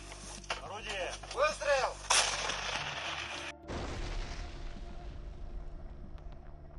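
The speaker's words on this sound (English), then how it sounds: "Artillery units are fighting against other artillery units." Heavy artillery fire from a self-propelled howitzer in the Russia–Ukraine war, a loud booming blast followed by a long rumbling roll, with a voice heard briefly just before.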